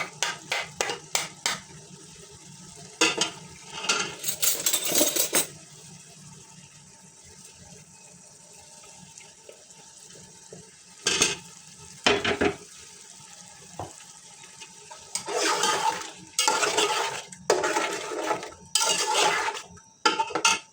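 Yogurt and garlic-ginger paste stirred and fried in a pan for a desi paya dish, with repeated bursts of scraping and sizzling between quieter stretches, close and fairly loud, and no talking.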